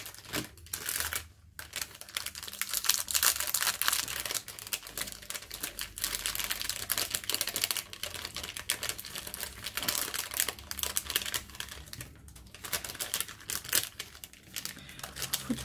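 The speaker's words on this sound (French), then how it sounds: "Il faut tout déballer pour trouver la bonne." Continuous crinkling and rustling of packaging being unwrapped to find an artificial flower for a pot craft, close and fairly loud, with dense crackly bursts and short pauses throughout.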